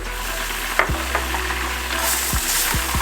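Garlic sautéing in a teaspoon of vegetable oil over medium heat in a skillet, a steady close sizzle with a few spatula scrapes and low knocks against the pan.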